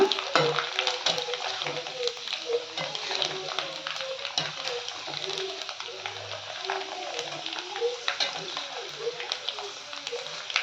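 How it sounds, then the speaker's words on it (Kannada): Dried coconut frying in oil gives a soft, steady sizzle with scattered pops and light stirring clinks, close but quiet. "ಇದು ಅಷ್ಟೇ ಎಣ್ಣೆಲಿ ಫ್ರೈ ಆಗ ಆಗೋವರೆಗೂ ಸ್ವಲ್ಪ ಕಲರ್ ಬಂದರೆ ಸಾಕು ತಗೋಬಿಡೋಣ"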